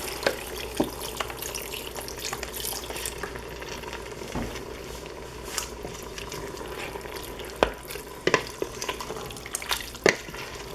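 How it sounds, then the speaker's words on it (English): Vegetable broth going into an Instant Pot while making carne guisada, heard as soft liquid splashing amid scattered clinks and knocks of utensils against the pot, close and without talk. "Add a little bit of chicken broth to this, or sorry, vegetable broth."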